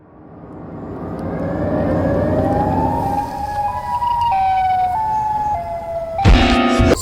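A wailing siren sweeps up and holds a high tone, stepping between pitches, loud and steady, then a sharp burst of noise at the end.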